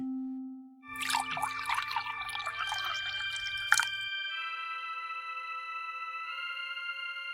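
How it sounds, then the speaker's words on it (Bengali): Water poured into a well as a sound effect in a fairy tale, a quick splashing, trickling pour that fades into a bright sustained ringing tone, heard alone and fairly quiet. "এবার আমি এই পড়া জল কুয়োর ভেতরে ঢেলে দিচ্ছি।"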